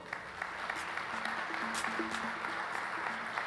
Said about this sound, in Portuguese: Palmas para o Décio.